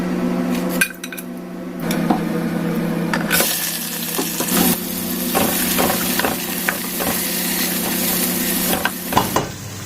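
Oil sizzling steadily while cauliflower cooks in a pot, a loud continuous hiss with clinks and scrapes of a utensil against the pot.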